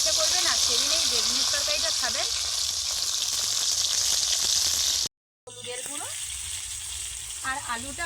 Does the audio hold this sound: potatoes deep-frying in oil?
yes